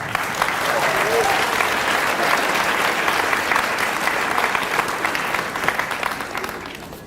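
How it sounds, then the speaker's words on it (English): A university audience applauds students at a diversity monologues event with steady, dense clapping that stays loud and near, tapers off at the end, and has a voice speaking over it. "Give yourselves a hand of applause."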